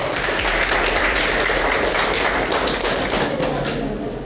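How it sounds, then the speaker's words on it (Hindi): An audience at a student career seminar claps loudly together, a dense, steady burst of applause filling the room for several seconds before starting to thin out. "अपने लिए ज़ोरदार ताली।"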